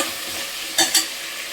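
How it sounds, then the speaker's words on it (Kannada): Tomatoes frying in a pan for a brinjal pulao, a steady hiss of sizzling oil broken by two quick, close stirring scrapes. "ಇದು ಸ್ವಲ್ಪ ಫ್ರೈ ಆಗಲಿ ಟೊಮೆಟೊ."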